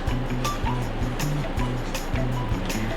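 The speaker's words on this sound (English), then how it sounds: "let's go ahead and whisk this in" Yeast is whisked into a mixture in a bowl for pepperoni rolls, making quick, rhythmic, repeated scraping strokes close by.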